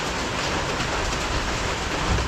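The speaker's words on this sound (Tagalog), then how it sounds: "ilan araw nang nag-uulan" Steady, dense hiss of heavy typhoon rain pouring down on a vegetable farm, loud and constant throughout with no voices.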